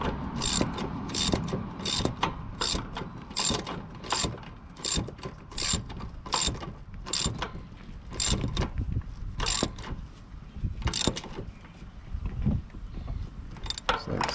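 A ratchet tightens a solenoid bolt on a Toro Grandstand mower, giving rapid, close clicking in repeated strokes with brief pauses between them.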